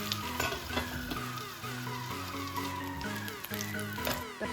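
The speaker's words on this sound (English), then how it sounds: "The pork is cooking up nicely." Okonomiyaki topped with pork sizzles on a hot griddle, a continuous soft frying crackle beneath background music.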